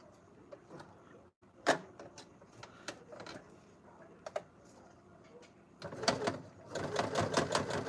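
Sewing machine stitching a bucket hat, heard as quiet scattered clicks and short bursts, then a faster run of rapid stitching near the end, with soft talk in the background.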